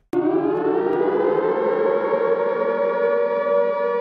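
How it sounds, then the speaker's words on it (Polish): An air raid siren starts abruptly and sounds a loud, sustained, slowly rising wail that holds steady without any voices. "a to jest ta syrena alarmowa, która o tym informuje"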